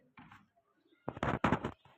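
Soft, close pigeon cooing, a brief murmur followed by a louder run of throaty coos.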